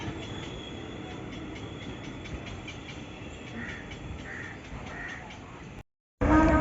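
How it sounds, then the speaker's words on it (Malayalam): An Indian Railways Janshatabdi Express hauled by a WP7 locomotive passes with steady rumbling wheel noise and faint squealing, crows cawing nearby, ending in a sudden dropout and a loud burst. "നമ്മുടെ സ്വന്തം ജനശതാബ്ദി എക്സ്പ്രസ് ആണ് കേട്ടോ കടന്നു വരുന്നത്."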